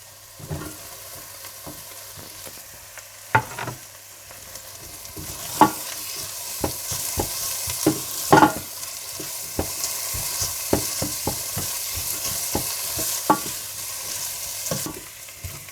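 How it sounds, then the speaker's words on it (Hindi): Green chillies and capsicum frying with okra in a pan, a steady sizzle broken by repeated sharp scraping and stirring clatters throughout, close and fairly loud. "इसके बाद इसमें हरी मिर्चें और शिमला मिर्चें डालकर थोड़ा सा भून लें।"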